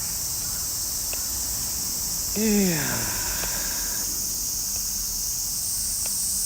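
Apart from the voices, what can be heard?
cicadas chirping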